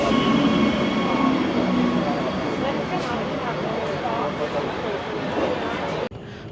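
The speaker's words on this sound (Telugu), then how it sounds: "అదిగోండి, ఇందాక ట్రిప్కి వెళ్ళిన ట్రైన్ వచ్చింది." A tourist train in France's Volvic and Puy de Dôme volcano region rumbles steadily into a station with a low mechanical drone and faint metallic squeals, crowd chatter mixed in, before cutting off abruptly near the end.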